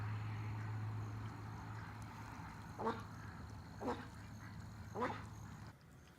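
A duck quacks three times at spaced intervals, moderately close, over a steady background hum and low outdoor noise.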